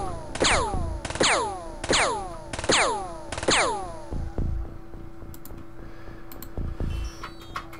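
Gunfire rings out in the alien-combat strategy game Acta versus Aliens: five loud, evenly spaced shots, each with a long ringing decay. Softer thuds and faint clicks follow afterward.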